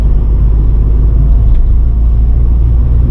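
A 2021 Tata Tiago BS6 car engine labours in third gear up a steep road at about 40 km/h, a loud steady low rumble and drone heard from inside the cabin, with no talking.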